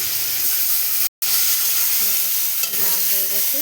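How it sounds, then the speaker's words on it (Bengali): Chopped onion frying in oil in a wok, a loud, steady hiss and sizzle close by, cut off by a brief gap of silence, then resuming with light stirring and a faint voice. "ওই কড়াইয়ের মধ্যে একটু তেল দেবো এখানে একটু পেঁয়াজ কুচি"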